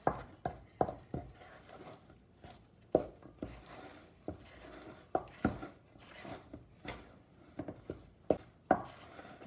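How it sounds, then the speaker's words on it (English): A metal spoon pushes sourdough starter through shaggy dough in a bowl, making a steady run of soft, close knocks and scrapes with occasional sharper taps. "And then you get a metal spoon. Just push it around until it's all nicely mixed."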